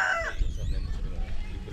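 A rooster's crow trails off at the start, followed by chickens clucking and scratching nearby.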